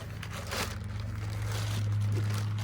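A plastic bag sealing a new axle nut for a Lexus ES350 passenger-side axle crinkles close up. The rustling is steady and soft over a low hum, with no talk.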